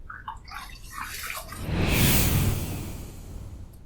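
Running water rinsing a face after a shave, a soft rushing splash that swells in the middle and eases off, close and steady, following a few faint clinks and drips.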